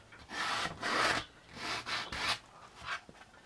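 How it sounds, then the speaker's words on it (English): Rubbing paint off a miniature dark wood piece to give it a distressed look: repeated close, soft scraping strokes in an uneven rhythm, with no talk. "Because it's dark wood underneath, you can do a little bit extra rubbing and it'll just come out how you want it."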